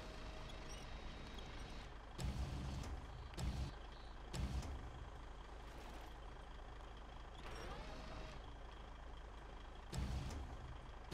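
A heavy truck in the snowy off-road game SnowRunner drives with a steady low engine rumble throughout, broken by several loud bursts of hissing air brakes and reversing beeps.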